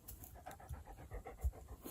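A dog pants quickly and rhythmically, close by and fairly quiet, with soft repeated breaths for a couple of seconds.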